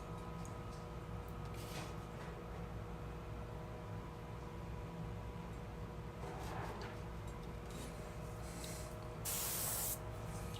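A GSI Creos airbrush fitted with a 0.2 needle and nozzle conversion and trigger grips sprays paint in a steady, close, continuous hiss that runs alone throughout, swelling briefly louder near the end.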